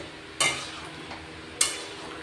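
Boiled potatoes dropped into simmering aloo dum gravy and stirred, heard as two sharp scraping sweeps of a spoon against the pan over a soft, low background hiss.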